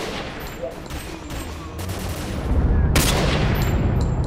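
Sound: gunfire in video game S.T.A.L.K.E.R. Call of Pripyat

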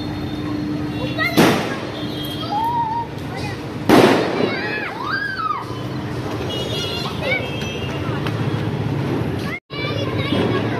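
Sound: Diwali firecrackers bursting

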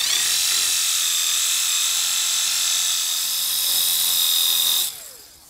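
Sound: rotary polisher polishing BMW G80 M3

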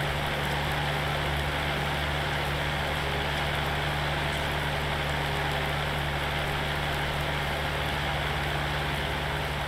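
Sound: rain in the video game Farming Simulator 19

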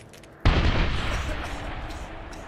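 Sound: grenade explosion and gunfire in video game Medal of Honor 2010

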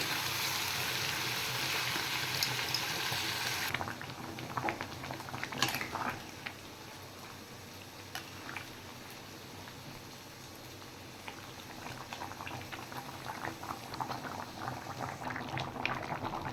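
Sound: mutton cooking in pot

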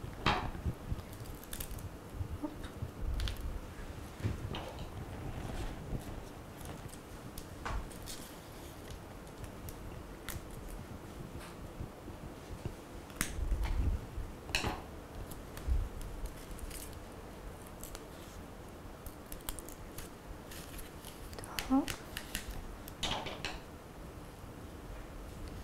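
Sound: trimming quilling paper strips

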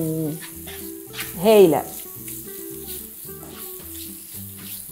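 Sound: chicken pieces frying in a pan

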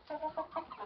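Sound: roosters fighting

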